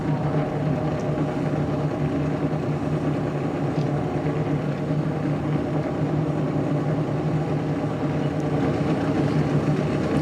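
A rotary-engined drift car waits before its qualifying run at a D1NZ round at Manfeild, its engine holding a continuous steady idle drone at moderate loudness.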